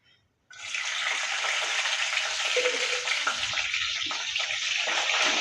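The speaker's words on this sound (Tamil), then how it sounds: "எண்ணெய் சூடானு வெந்தயம் பொரிஞ்சதும் பூண்டு சேர்த்துக்கிறேன்." Fenugreek seeds and garlic frying in hot oil in a kadai, a steady loud sizzle that starts abruptly after a brief quiet moment and crackles continuously close up, with faint stirring underneath.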